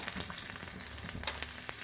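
Garlic tempering sizzles steadily for spinach gargat, a continuous close frying hiss with small crackles and pops throughout, no talking.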